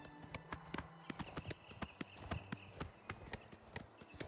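Horse hooves galloping in the video game Oblivion Remastered, a quick steady clip-clop of hoofbeats over a low game ambience, with no voices.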